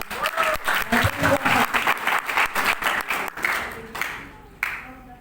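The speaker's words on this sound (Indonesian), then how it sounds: "Tepuk tangan dong dulu semuanya." A crowd claps in a dense burst of applause that holds steady, then tapers off with a few last claps; some voices mix in underneath.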